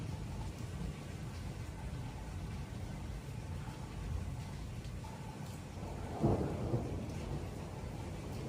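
A thunderstorm in Spain or Belgium keeps up a low rumble over steady rain, and one louder thunder crack hits near the middle and then rolls away, with no voices.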